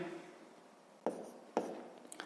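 Pen strokes on paper while a sixth-grade math exercise is worked out by hand, heard as a few short, close scratching bursts over faint background hiss.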